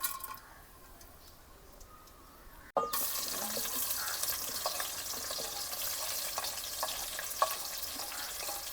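Bay leaf, cloves, black pepper and cinnamon dropped into hot oil for a prawn pulao: a faint low hiss, then an abrupt jump to a steady crackling sizzle that holds to the end, no talking.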